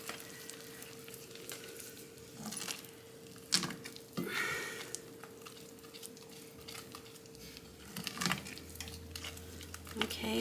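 Butter melting in a pan on the stove gives a faint, steady sizzle and crackle, with occasional soft clinks and stirring scrapes. No one speaks.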